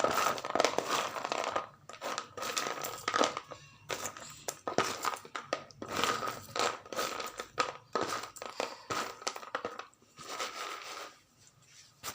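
Roasted peanuts rubbed between the hands so their skins flake off, a quiet dry crinkling and rustling in uneven bursts with short pauses, close and without talk.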